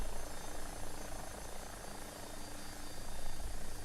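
Steady, dense rotor and turbine drone of an AW-109 helicopter in the X-Plane 12 flight simulator, a continuous broadband whir with a low throb that holds constant, alone with no talk.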